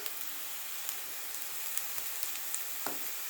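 Asafoetida powder dropped into hot oil with curry leaves, giving a faint, steady fizzing sizzle with scattered tiny pops, close by and quiet.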